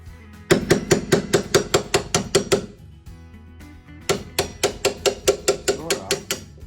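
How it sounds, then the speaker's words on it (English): Hammer blows knock at an AC intake vent door to free it, two quick runs of about ten sharp, evenly spaced metallic strikes with a short pause between, loud and close, no talking. "We don't want the system coming on while I'm hammering away."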